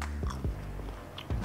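A few quiet, close crunchy bites into crispy battered fried chicken, three or four short crackles spaced unevenly with soft chewing between.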